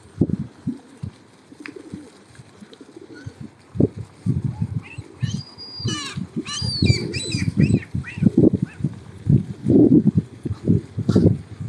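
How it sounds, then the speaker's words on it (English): Birds coo and chirp in trees outdoors at The Lough in Cork, Ireland, with a soft flutter of wings at one point. "Lots of birds here, lots of birds in the trees."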